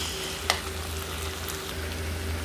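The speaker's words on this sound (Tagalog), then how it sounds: "Haluin lang natin." Tofu sisig with chicken being stirred in a pan: a moderate, continuous sizzle with a low background hum and a single sharp utensil tap early on, no talking.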